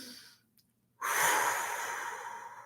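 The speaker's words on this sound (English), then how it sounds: "Take a deep breath" A deep breath blown out slowly, a soft breathy rush that begins after a brief pause and trails off over a second or so, close and alone.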